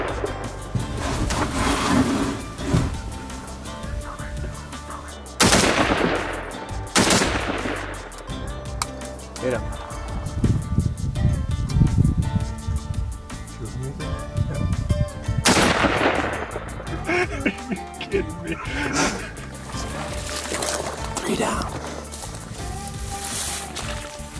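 Gunfire on a deer hunt: three sharp, loud shots crack out several seconds apart, with people's voices and outdoor background noise between them.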